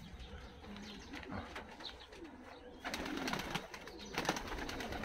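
Racing pigeons coo softly at an aviary in a low, murmuring chorus, faint and steady. Light outdoor background noise becomes slightly busier in the second half.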